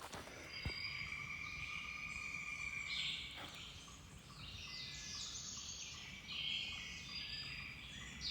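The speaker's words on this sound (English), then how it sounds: "Birds were just going nuts a second ago. They still are." Birds call and sing in a forest along the Appalachian Trail, a steady chorus of faint chirps and trills with insects buzzing underneath and no voices.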